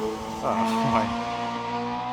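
A loud racing motorbike sweeps past on a track, its engine note rising and falling quickly as it passes close by, heard from inside a Renault Megane RS RB8, with a voice speaking over it.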